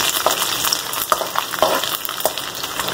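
Onions fry in a pan with chana dal and garlic for village-style stuffed eggplant, a close, continuous sizzle broken by a few stirring scrapes, alone with no voices.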